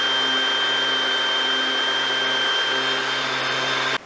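A backyard mosquito fogger machine drones with a steady, tonal motor hum, constant and close, cutting off abruptly at the end.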